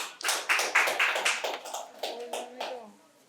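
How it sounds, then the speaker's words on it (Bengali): An audience at a quiz competition at Santiniketan Medical College and Hospital claps for a prize winner in a brisk, fairly close round of applause that tapers off, with voices rising underneath toward the end. "ওকে পুরস্কার তুলে দেওয়ার জন্য উদিত স্যারকে রিকোয়েস্ট করব, ওর জন্য একটা জোরে হাততালি"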